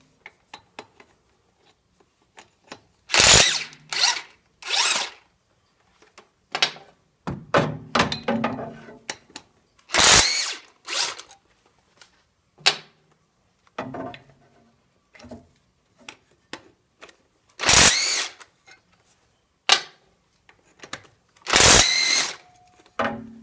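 Power tool bursts loosening four half-inch pulley bolts on an Oldsmobile engine during a cam replacement, heard as short, sharp, loud whirring rattles separated by pauses, with clunks and metallic handling in between.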